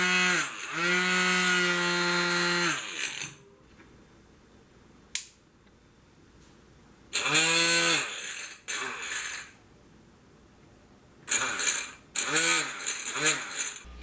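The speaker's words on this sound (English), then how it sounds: "It seems to work pretty good for a homemade Dremel bit." A homemade 12V cordless rotary tool spins a custom bit made from a bolt, nut and beer bottle cap, giving a loud high-pitched whine that rises and falls in three separate bursts with quiet gaps between them.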